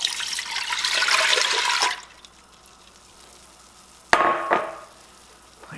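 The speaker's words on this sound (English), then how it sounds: "Now we're going to pour in our rice vinegar and our soy sauce." Rice vinegar and soy sauce poured into a pot for hot and sour chicken, a steady close splashing stream for about two seconds, then a quieter pause and a second brief pour.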